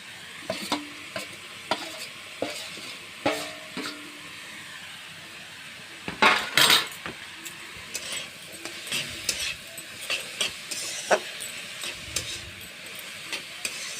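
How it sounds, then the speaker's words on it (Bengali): Potatoes added to leafy greens cooking in a pan, sizzling and frying with scattered stirring clatters and a brief louder burst of hiss partway through, fairly quiet and close. "এখন আমি আলুগুলো দিয়ে দেব। আলুগুলো দিয়ে দিচ্ছি।"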